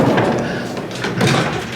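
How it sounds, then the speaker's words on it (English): A cabin door is opened in a mountain cabin during a snowstorm trip, a muffled thump and slide close by over steady room noise, with no clear speech. "So then we open this door."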